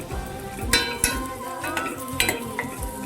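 Dry red chilies frying in hot oil in a pan while a ridged gourd curry is cooked, a steady sizzle broken by a few sharp clinks of a spoon against the pot, close and continuous with no talk.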